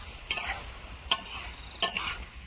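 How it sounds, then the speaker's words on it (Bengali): Meat with potatoes and tomatoes being stirred in a pan for a chicken curry, three distinct scraping strokes of a spoon against the pan at a slow, uneven rhythm over a faint sizzle, close and fairly quiet, with no talking. "মাংসটা একটু কষিয়ে নিয়েছি এবারে আলু আর টমেটো দেবো দিয়ে আবার একটু নেড়ে ছেড়ে নেবো"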